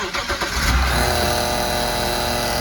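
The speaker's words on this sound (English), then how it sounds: "Okay, so start the engine." A BMW car engine cranks and fires up during a transmission fluid flush on a ZF6HP gearbox, a brief starter whirr catching into a rising rev, then settling into a steady close idle.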